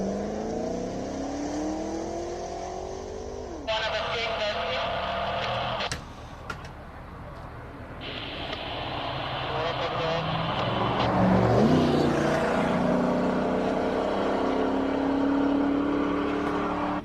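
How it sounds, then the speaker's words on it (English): A Corvette makes a hillclimb run at Simola, its engine revving hard and climbing through the gears, loud and close with sharp shifts, over steady commentary voices throughout. "here is the Corvette. He's going to have his run."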